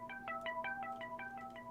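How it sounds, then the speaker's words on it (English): A bright synth-like tone repeats in quick, even pulses, each note ringing into the next with echoing repeats over a steady low hum. "then I put the echo on"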